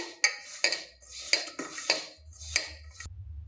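A spoon clinks and scrapes against a bowl several times at an uneven pace as Manchurian batter with salt and Kashmiri chilli is stirred together, close and fairly quiet.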